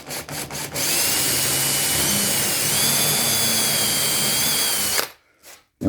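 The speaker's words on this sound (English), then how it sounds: "And we're just going to drill our pilot holes." A power drill whines steadily while boring pilot holes for dowels into wood on a vintage country buffet, loud and close, running for several seconds after a few short bursts and stopping abruptly.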